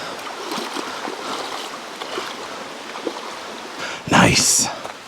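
Water flowing over rocks in Bluff Creek, with a steady broadband rush throughout and a brief louder splash near the end.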